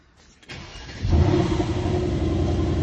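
A Mercedes-AMG C63 S engine starts and settles into a steady, smooth, subdued running hum with a low rumble, close by and fairly loud.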